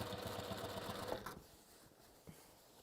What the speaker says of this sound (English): you're going to be top stitching by smidge over 1/4 of an inch